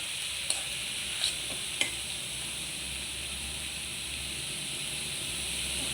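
Leafy greens (shak bhaji) fry in a pan with a quiet, steady sizzling hiss, marked by a few faint clicks from stirring near the start, and no voices.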